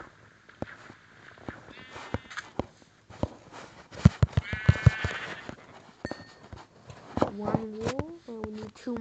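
Sheep in Minecraft Pocket Edition bleat several times among footstep-like clicks and thuds, with short tonal game blips near the end; a voice talks over part of it.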